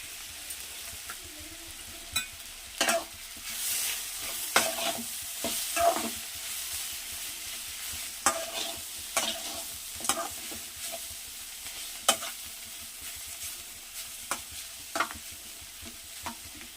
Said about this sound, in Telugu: ఇప్పుడు ఈ ఎల్లిపాయ కారం వేసి ఇందులో కలుపుదామండి